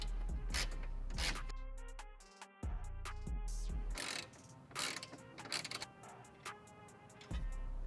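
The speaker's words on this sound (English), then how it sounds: "you'll take your 10mm and there's 2 bolts on this side that you will need to remove." A hand ratchet with a 10mm socket works bolts loose on the side of a Toyota 4Runner bumper, giving close bursts of rapid clicking strokes broken by short pauses, with no talking.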